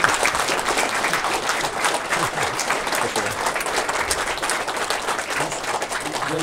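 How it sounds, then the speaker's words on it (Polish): A crowd in Suwałki gives Janusz Korwin-Mikke a loud welcoming round of applause, dense and continuous clapping that stays even and strong from start to finish without speech. "Wielkie brawa"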